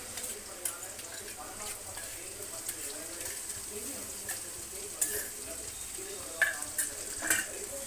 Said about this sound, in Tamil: இதோட பச்சை வாடை போகிற வரையிலும் நல்லா கிண்டணும்